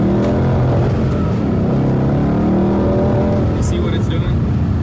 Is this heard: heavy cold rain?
no